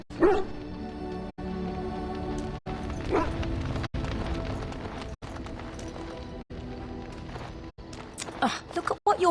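A dog barks in a console video game, sharp yips and barks mixed with hoof clip-clop and game ambience, with several brief audio dropouts, while voices speak over the scene.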